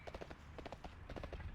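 Horse hooves clip-clopping as a mount is ridden in World of Warcraft's vanilla-era Elwynn Forest, a steady rapid run of close, crisp hoofbeats heard on their own without talk.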